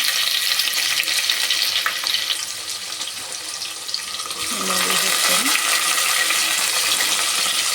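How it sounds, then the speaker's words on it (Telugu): Long-sliced medium onions fry in a pan for prawn coconut milk pulao, a dense close hiss that dips briefly, then returns with brief murmured talk in the middle. "ఇవి మంచి కలర్ వచ్చే వరకు ఫ్రై చేసుకోవాలి"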